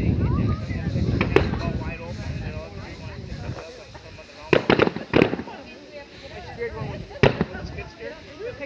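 Fireworks burst over Eau Claire, a few sharp cracks and bangs, some close together, over a continuous rumbling, windy background, with people talking throughout.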